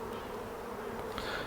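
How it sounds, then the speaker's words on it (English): Honey bees hum thickly on a hive frame of emerging brood, a close, unbroken buzzing drone with no talk. "So we've now got lots of emerging brood, lots of very young bees on this frame"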